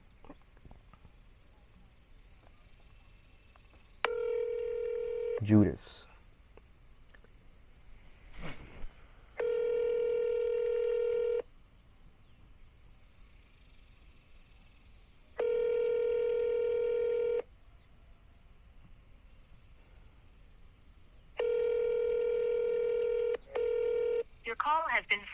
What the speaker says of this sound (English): All right, it's calling my phone.